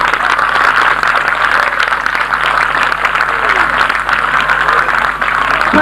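An audience gives a priest a loud, continuous burst of applause, dense clapping from a large crowd that fills the room, with voices mixed faintly underneath.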